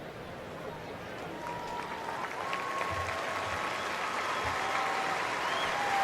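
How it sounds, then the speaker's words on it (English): A stadium crowd at a 2010 Oklahoma at Baylor college football game applauds an injured player. The broad, sustained roar swells slightly over six seconds, with faint voices in the mix. "Nice applause coming from everybody in this stadium right now for the young man."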